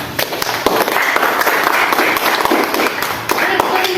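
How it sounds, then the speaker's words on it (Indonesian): A classroom of students claps for a student group, with a dense, steady patter of hand claps filling the room for several seconds, loud and close, with voices mixed in. "Kita kasih langsung tepuk tangan dulu untuk kelompok 3 nak."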